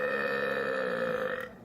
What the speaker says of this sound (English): Do I burp?